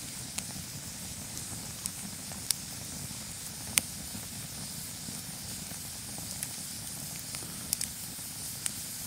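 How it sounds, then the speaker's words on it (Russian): A tiny camping campfire burns under a pot at an outdoor overnight spot, giving a steady low roar and hiss with sharp crackles and pops scattered throughout, close and moderately loud with no talking. "Такой вот нано-костер."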